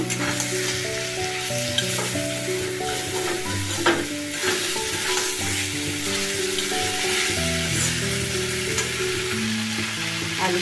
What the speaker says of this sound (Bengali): আমি ভালো করে আলু আর ফুলকপি একসাথে মিশিয়ে নেব